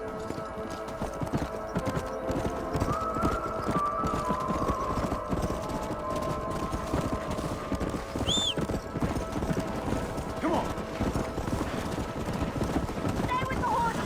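Hooves clip-clop steadily as horses move through a canyon in Red Dead Redemption, paired with a faint horse whinny and gameplay music. Someone shouts briefly over the hoofbeats.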